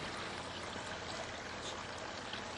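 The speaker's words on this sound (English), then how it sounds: "you can see the flow coming out here, it's not slowing down at all" Water flows steadily out of a lake water filter, a quiet, continuous trickling rush with no pauses and no voices.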